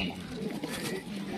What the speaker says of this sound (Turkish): Şimdi arkadaşlar Hamo bize kuşları tanıtacak. Kuşlar çok kaliteli.